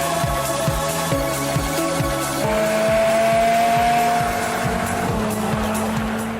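A Porsche coupe driven hard on Isle of Man roads: its engine screams up through the gears in rapid repeated shifts, with tyre squeal, loud and close throughout, no talking.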